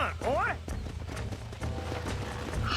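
Horse hooves clip-clop along in a quick rhythm beneath Red Dead Redemption game sounds, with a voice speaking over them.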